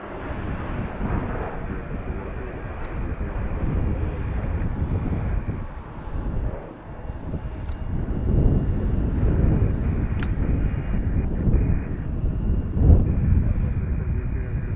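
A plane taking off from Harrisburg International Airport (MDT) on a flight to Philadelphia, heard as a steady, broad engine roar with wind noise that holds throughout, dips briefly near the middle, then swells again.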